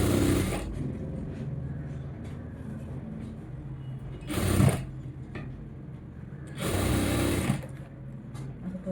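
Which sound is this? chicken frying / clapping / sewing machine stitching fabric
sewing machine stitching fabric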